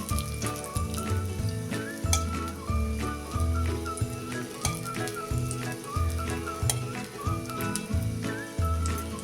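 Brinjal slices coated in masala frying in oil in a pan, giving a steady close sizzle with crackling spits and soft clicks of the pan throughout.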